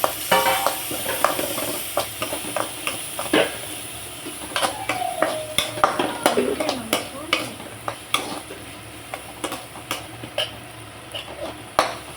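Chopped onion and cumin sauté in a pan while a spoon scrapes and taps against the metal in frequent irregular strokes over a constant frying hiss, close up, with no talking.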